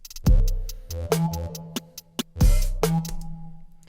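A deep electric bass line centred on E in a Phrygian progression with a punchy drum beat, kick hits booming on each note and crisp snare cracks between them, loud and up front.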